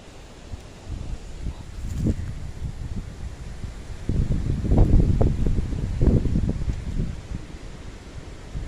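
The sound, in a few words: wind blowing outdoors into the microphone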